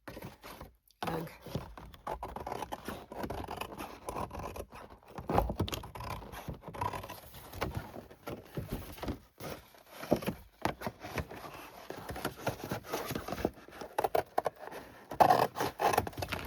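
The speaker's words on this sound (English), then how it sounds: "I just could not get my scissors aligned right." Scissors snip and scrape through fabric tabs in a long run of irregular cutting, close and fairly quiet, with short pauses between strokes.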